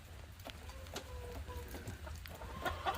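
Soft clucking and short calls from broad-breasted meat turkeys nearby, scattered and irregular over a quiet, low outdoor rumble in the rain.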